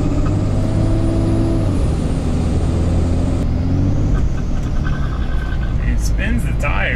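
Cummins-swapped Ford truck accelerating hard, a loud, close engine roar with rising tones, shifting midway, then tire noise and squeals near the end, with someone talking over it.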